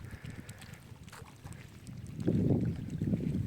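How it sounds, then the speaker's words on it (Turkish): Wind buffets the microphone in low, rumbling gusts that grow stronger toward the end, with water and boat noise underneath, in a quiet bay. "Rüzgar da var."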